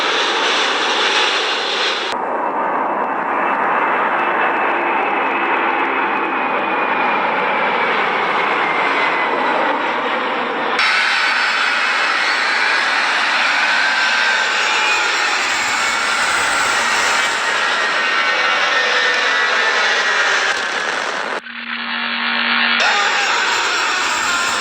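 Aircraft engines roar steadily at Toronto Pearson International Airport, a loud, continuous drone with shifting whine and brief cuts in the sound, no talking.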